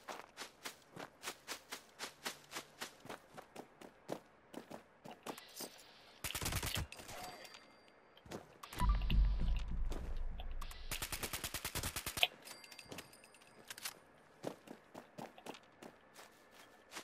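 Fallout 76 gunfire: quick, crisp single shots and footsteps give way to two loud bursts of sustained automatic fire, then return to sparse shots and steps.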